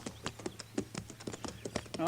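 Horses' hooves clip-clop in an irregular run of sharp knocks in a corral where a boy is feeding his horses, with a low steady hum beneath and a voice rising at the very end.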